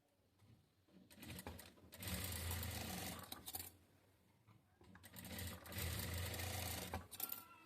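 A sewing machine stitches the sleeve joint of a katori blouse in two long, steady whirring runs, close and clear, separated by a short pause with small mechanical clicks.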